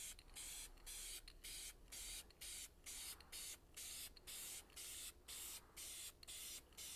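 Aerosol spray can laying down primer in a garage, a series of about a dozen short, even hissing bursts in a steady rhythm, close and loud with brief gaps between each press.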